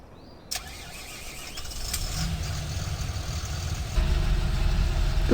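A Fendt 700 Vario SCR tractor engine in Farming Simulator cranks and catches after a short click, then settles into a steady, rising idle rumble that grows louder toward the end, heard alone without talk.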